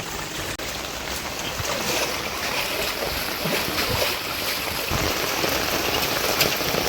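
Heavy monsoon rain pours down steadily at a village home, a dense, even hiss that holds at constant loudness throughout with no voices.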